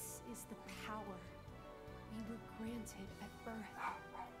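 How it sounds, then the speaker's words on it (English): Faint dogs bark and yip intermittently in the background while a person talks over them. "Dogs are barking."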